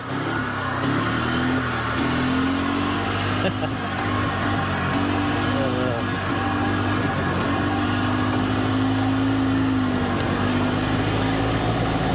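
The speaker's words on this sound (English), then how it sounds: "Little two-stroke engine in this thing." A small two-stroke engine in a Mahindra Retriever 750 runs steadily at idle, its buzzing hum rising and falling slightly in pitch, loud and close throughout.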